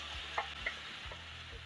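Tomato hitting hot lard in a pan sizzles with a steady frying hiss, broken by a few soft stirring scrapes and light clicks, close and fairly quiet.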